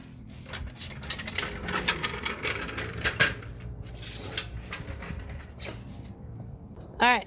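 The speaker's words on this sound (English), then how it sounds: "just tightening up the upper strut 4 bolts up there" Upper strut bolts being tightened on a Toyota Tundra during suspension replacement: scattered metallic clinks, rattles and ratchet-like clicks from tools and hardware, close by and irregular, with a sharper clatter near the end.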